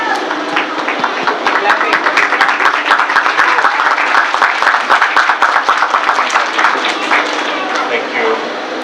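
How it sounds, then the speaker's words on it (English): Sustained audience applause at a Rotary Club World Polio Day event, dense and steady clapping from a crowd lasting several seconds at a fairly loud, even level. "applause, please."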